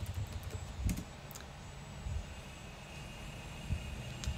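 Soft clicks of typing on a computer keyboard, scattered keystrokes over a steady low background hum.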